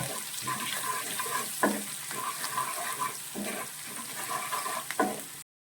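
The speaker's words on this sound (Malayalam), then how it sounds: "ഇഞ്ചി ചോപ്പ് ചെയ്തതും അതുപോലെ തന്നെ വെളുത്തുള്ളി ചോപ്പ് ചെയ്തതും കൂടി ചേർക്കുവാണ് ഇത് നന്നായിട്ട് വഴറ്റണം" Chopped ginger and garlic sauté in oil for a chili curry, a soft continuous sizzle broken by several scraping stirs of a spatula in the pan, close and moderately quiet, with no voices.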